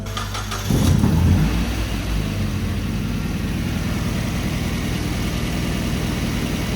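A project car's engine cranks and fires up about a second in, then settles into a steady, loud idle that runs on alone with no one talking.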